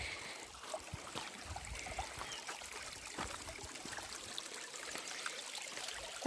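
A small stream of water trickles steadily beside a hiking trail near the Kinzua Bridge, a soft continuous wash of flowing water heard alone at low level.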